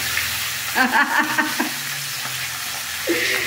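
A whole fish head frying in hot oil in a wok, with a steady sizzle and several sharp pops and crackles rising above it, heard close up with no talking.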